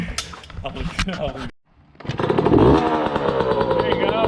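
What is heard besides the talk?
1995 Yamaha YZ125 dirt bike engine starting on first kick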